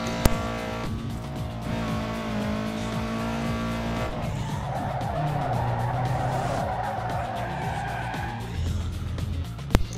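Car engine droning and tires skidding in the video game Need for Speed Underground, a steady engine tone with pitch shifts and a long squealing slide mid-clip, plus sharp clicks near the start and end.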